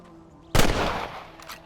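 A single sharp rifle shot cracks out in the Red Dead Redemption western game after a quiet moment, then rings and decays over about a second.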